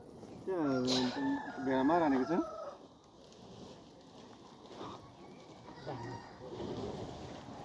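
A rooster in a Nepali village crows twice close by, loud drawn-out calls in the opening seconds, followed by quieter background sounds and faint voices.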